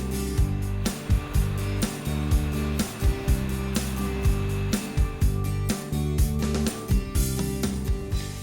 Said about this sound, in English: many more go into sanding and finishing.